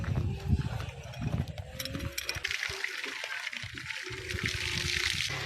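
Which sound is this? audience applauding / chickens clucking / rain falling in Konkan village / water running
water running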